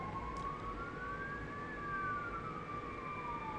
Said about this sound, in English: I don't know if you can hear the sirens